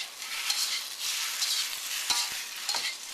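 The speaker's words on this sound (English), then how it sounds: "Just take your spatula, break them up." A spatula breaks up soft rice noodles in a hot pan, with scraping, stirring strokes and a couple of sharp taps over a continuous light sizzle.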